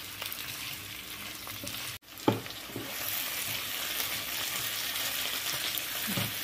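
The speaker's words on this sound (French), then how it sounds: "Je vais laisser mijoter encore quelques minutes" Lamb tripe with vegetables and spices simmers in a pan, a soft steady sizzle and bubbling broken by a brief dropout and a few utensil clinks against the pan.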